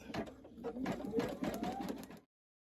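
A Brother Innovis VE2200 embroidery machine stitches gold thread on a towel, giving a quiet, rapid mechanical chatter of needle strokes for about two seconds before stopping abruptly.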